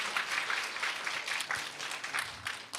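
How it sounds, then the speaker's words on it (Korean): A church congregation applauds in welcome for a young man newly arrived at the church, with steady dense clapping that holds at an even level throughout, no voices rising above it. "우리 큰 박수로 환영해 주시겠습니까?"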